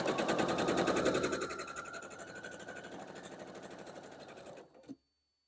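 A sewing machine stitches quilt block pieces for an Ohio Star barn quilt block, running in a fast, steady mechanical rhythm that softens partway through and stops abruptly near the end, heard close and alone.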